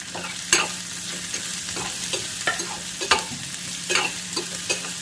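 Potato, onion, crushed garlic and chili fry in a pan with a steady sizzle. A spatula stirs and clacks against the pan now and then, close by, with no voices.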